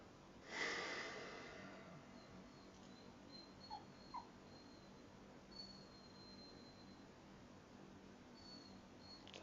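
A small dog gives a soft whimper and snort near the start, followed by faint, sparse snuffles over a steady low background hum.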